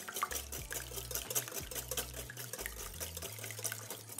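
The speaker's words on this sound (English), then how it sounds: "Add my half and half." Half and half poured into beaten eggs in a bowl for a quiche mix, a short run of liquid gurgles and splashy trickling with a wavering, bubbly stream, close and moderately loud.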